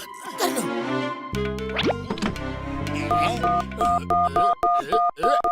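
A rapid series of short electronic telephone dialing tones beeps in a quick rhythm, following cartoonish boings and other effects, in a Motu Patlu cartoon.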